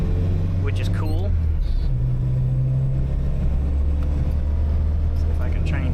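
A 1975 Chevrolet LUV pickup with a Weber carburetor, Pertronix electronic ignition and about 75 horsepower drones steadily while driving, a loud, continuous low engine rumble with road noise throughout.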